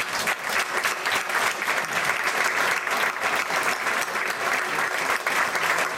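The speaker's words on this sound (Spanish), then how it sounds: "con un aplauso muy caluroso" Warm audience applause fills the closing session of a cataloguing and metadata conference, with sustained, loud and even clapping from a sizeable crowd throughout, with no voices rising above it.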